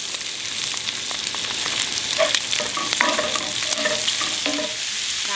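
Corned beef and garlic fry in a pan with a steady, close sizzle, broken by brief crackles and scraping stirs throughout, without any speech.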